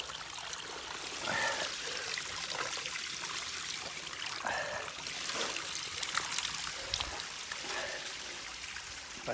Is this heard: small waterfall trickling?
yes